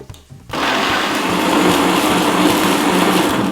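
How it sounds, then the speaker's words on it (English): An electric kitchen blender whirs loudly as it purées tomatoes for a pigeon pea stew, kicking in after a brief quiet start and then running steadily and close at full speed with no talking over it. "As we continue frying, we'll prepare the tomatoes. I'll use the blender."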